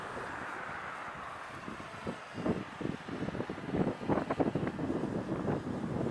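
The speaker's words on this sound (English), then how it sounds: "It is really fighting that wind today." Wind blows hard across an outdoor microphone during a test of an X-Vert kite boat, a steady rushing roar with gusty swells and faint water noise, no one talking.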